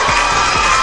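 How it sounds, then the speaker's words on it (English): A crowd cheers and claps continuously, a dense wash of applause and shouting voices with no pauses. "The crowd clapped with delight."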